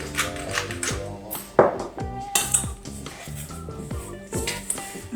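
Vegan wonton filling with spring onion, salt and pepper is stirred in a bowl for Indonesian pangsit goreng, producing repeated clinking and scraping of a utensil against the dish in an uneven, close rhythm.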